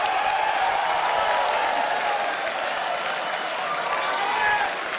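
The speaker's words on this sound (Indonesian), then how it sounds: "Silakan tepuk tangan." Audience applause at the 2014 Indonesian presidential and vice-presidential candidate debate: a sustained, fairly loud wash of clapping from a hall crowd lasting the full five seconds with no voices over it.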